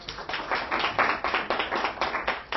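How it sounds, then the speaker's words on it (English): Steady applause from a library audience greeting author Chuck Logan, dense overlapping hand claps rising and falling in waves, fairly close and continuous throughout. "Maybe you should hold the applause until the end of things"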